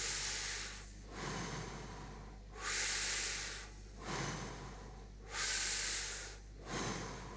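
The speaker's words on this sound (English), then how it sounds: "Breathe in through your mouth." Slow, deep breaths drawn in through the mouth, several airy inhales with pauses between, close and hissy, with no talking.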